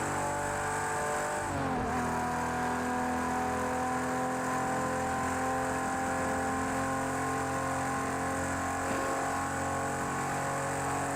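Ferrari 250 Testa Rossa engine in the Project Cars 2 racing game, revving hard and continuously at high pitch, with a brief drop in revs from a gear change partway through, loud and steady throughout.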